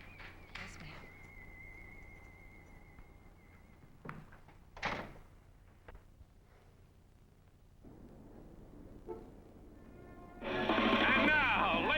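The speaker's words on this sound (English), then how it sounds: "Close the door, Willow." A door shuts during a scene from the Robert Altman film HealtH, giving brief knocks and a thud in a quiet room, followed by rising music and crowd noise.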